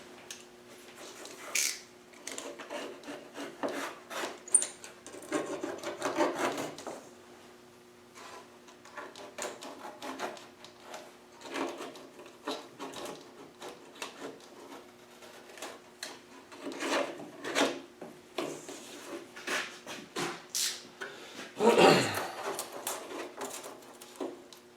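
Part of a Series 3 Land Rover dashboard is trimmed off. Quiet, intermittent scraping and rasping cuts come close up with irregular pauses, and one sharper scrape stands out near the end.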